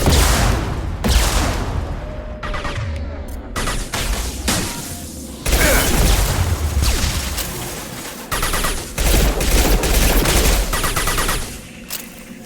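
Heavy, sustained gunfire in the video game Mass Effect 2, with dense overlapping automatic bursts and booming impacts, loud and close, broken by brief pauses.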